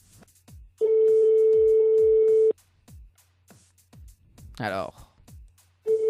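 A telephone ringback tone sounds in long steady buzzes with silences between them while a call on a live radio show goes unanswered, and a voice talks briefly in the gaps.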